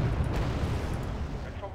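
Autocannon fire in the Wargame Red Dragon strategy game, a short stretch of dense rumbling booms heard under a voice.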